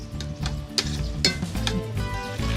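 Garlic frying in a pan before spinach is added, with a constant sizzle broken by several clinks and scrapes of a utensil stirring against the pan, close and with no talk.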